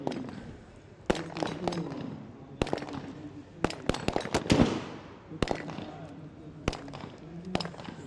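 Sniper rifle shots at an outdoor SWAT team competition ring out in a series of sharp, loud cracks spaced irregularly through the stretch, with voices and commentary in the background.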